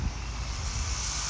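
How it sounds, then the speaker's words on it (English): A lawn mower running nearby in a residential yard makes a steady, broad engine drone that stays constant and fairly loud throughout, with no talk over it. "There's somebody mowing the yard."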